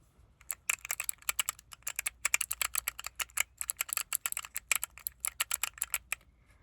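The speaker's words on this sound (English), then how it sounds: "That's what my keyboard sounds like" Rapid clicking keystrokes on a computer keyboard, close and crisp, in uneven bursts with brief pauses, no voices.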